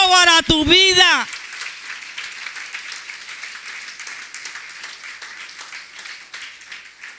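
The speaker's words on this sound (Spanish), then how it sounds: "denle un aplauso al Señor en esta mañana" Congregation applause during a Spanish-language church service, a voice heard briefly at the start before steady clapping fills the room and carries on at an even level until the end.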